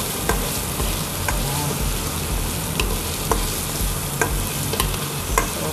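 Onions sautéing in a pan for ginisang upo with shrimp hiss in a dense, continuous sizzle, with a few sharp stir clicks and scrapes popping up near the listener, no voices.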